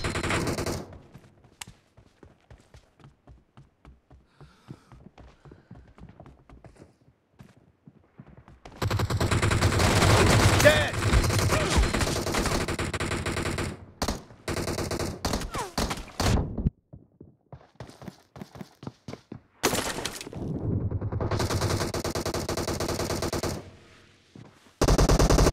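Video game gunfire with bursts of rapid automatic shots and single cracks. Loud dense volleys alternate with quieter sparse shooting and brief thuds, and an announcer voice briefly comes through.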